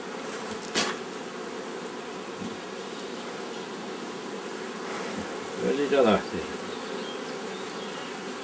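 Honey bees buzz continuously around a beekeeper's hive in the Ebbe mountains, a dense close drone with a few louder passes near the start and middle, while a person speaks briefly.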